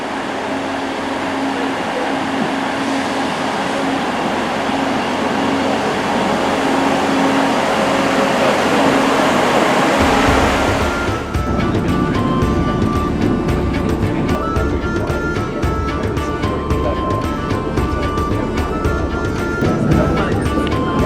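A Sprinter passenger train passes by a station platform, a sustained rumbling roar that builds and shifts partway through as the carriages go past at close range, with no talk.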